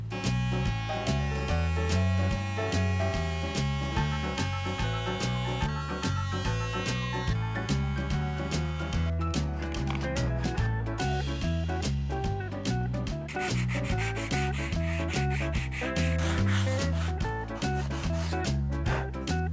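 A power multi-tool sanding wood filler on a piece of salvaged bedroom furniture during restoration, a steady rasping, buzzing drone that runs continuously and close up throughout, with slight shifts in pitch as pressure changes.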